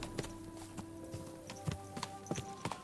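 Horse hooves clip-clopping in the medieval video game Kingdom Come: Deliverance II, a steady walking rhythm of crisp hoof strikes over a low ambient hum, with no talking over them.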